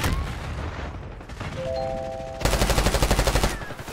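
Rapid automatic gunfire from Call of Duty: Black Ops 6, a loud burst of quick rhythmic shots after a short stretch of game sounds and a brief chime.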